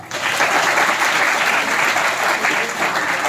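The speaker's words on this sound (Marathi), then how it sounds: "पाचसाठी खूप जोरदार टाळ्या" Loud, sustained applause from an audience at a Nehru Science Centre educational event and mobile science exhibition, dense clapping filling the whole stretch without a break.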